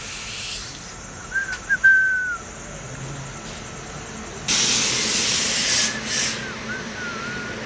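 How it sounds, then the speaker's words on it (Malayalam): A train pulls into a crowded railway platform, with faint whistling tones early on. A sudden burst of loud hissing like air brakes follows midway and lasts to the end. "അപ്പോൾ ട്രെയിൻ എത്തിയിട്ടുണ്ട്"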